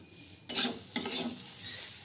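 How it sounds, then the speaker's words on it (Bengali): Eggplant roasting directly over a cooking flame, with a soft hiss and crackle that swells in short bursts over steady low background noise, close and fairly quiet. "এই যে এখানে বেগুন পোড়াচ্ছি"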